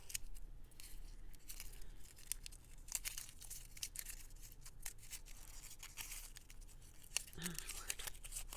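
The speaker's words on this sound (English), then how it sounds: "I'm going to actually crumple this." Paper for a junk journal is crumpled by hand close up, with continuous crinkling and sharp crackles over several seconds.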